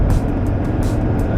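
A Mercedes W123 with a 3-liter five-cylinder diesel engine driving at speed, heard from inside as a loud, steady low drone of engine and road noise with rushing wind.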